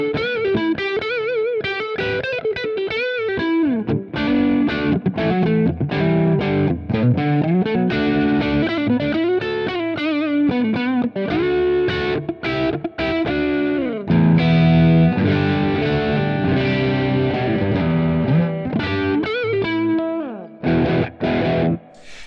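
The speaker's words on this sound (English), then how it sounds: "I could select a spring reverb, and let's say, turn the mix down a little bit" A distorted electric guitar plays a busy melodic riff through a Neural DSP Quad Cortex with a spring reverb at a reduced mix, loud and sustained, with short pauses between phrases and no talking.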